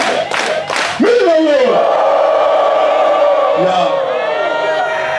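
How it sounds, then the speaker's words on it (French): A church congregation at a Sabbath-Sunday festival service raises a loud burst of cheering, with whoops and high wavering cries sustained over the crowd noise for several seconds. "Applaudissons! Applaudissons!"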